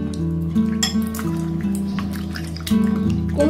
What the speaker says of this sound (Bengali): এবার কুমড়োটাকে আমি জলের মধ্যে দিয়ে দেবো আর খুব ভালোভাবে ধুয়ে নেব।